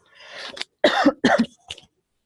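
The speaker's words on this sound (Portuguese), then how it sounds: "Só um pouquinho que eu vou tossir." A few close, harsh coughs in quick succession, starting with a breathy rasp and ending in a softer final cough.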